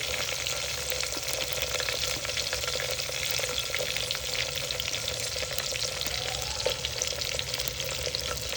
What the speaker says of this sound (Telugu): లో ఫ్లేమ్లో పెట్టుకొని తర్వాత ఆనియన్ వేసుకోవాలి